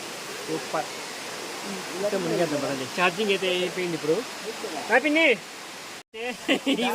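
A waterfall at Thalakona gives off a steady, broad rushing roar that runs the whole way through, with people talking loudly over it.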